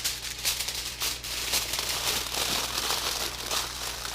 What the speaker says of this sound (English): we're just gonna wrap this up in tin foil